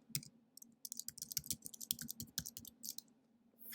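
Fingers type on a computer keyboard in a quick, uneven run of close, crisp key clicks with short pauses, over a faint steady hum and with no talk.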